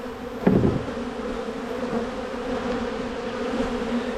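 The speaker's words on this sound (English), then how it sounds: "whole bunch of bees" A close swarm of honeybees hums in a dense, steady drone with a sharper thump near the start, the buzzing continuing evenly without voices.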